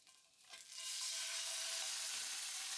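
Miso salmon fillet frying in a pan just after being turned, giving a brief scrape and then a loud, steady, close hiss of sizzling oil with no talk.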